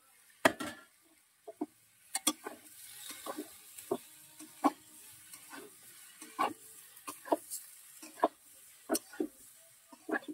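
Cauliflower frying in a pan, with a low sizzle under repeated sharp clinks and scrapes of a utensil stirring against the pan, close and fairly quiet.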